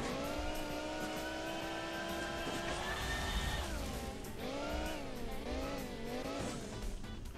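Scooter engine racing in Hill Climb Racing 2, a video game, droning steadily with pitch rising and dipping as it revs, continuous and loud throughout.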